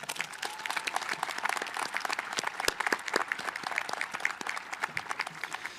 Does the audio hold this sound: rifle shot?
no